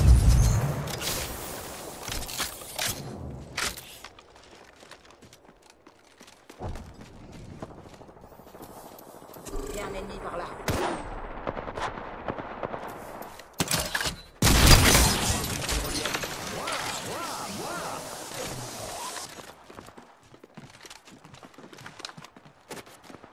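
Gunfire in the Apex Legends video game: bursts of rapid shots that come and go in clusters, some loud and close, amid game effects and brief voice callouts.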